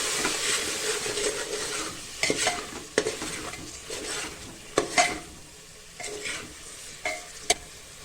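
Mini undhiyu vegetables and salt get stirred in a pan, a spoon scraping and clinking repeatedly against the metal over a soft steady sizzle, close up with no talking.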